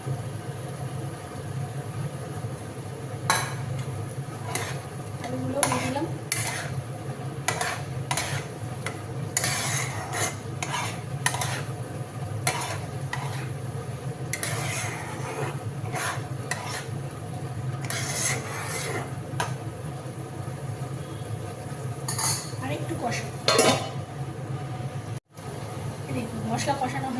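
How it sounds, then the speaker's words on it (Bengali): Potatoes sizzling in spiced masala in a pan on a home stove, with a steady fry hiss and intermittent scraping stirs from a spatula, while someone speaks over the cooking. "মশলাটা আরেকটু কষানো হবে। এর মধ্যে আলুগুলো দিয়ে দিই।"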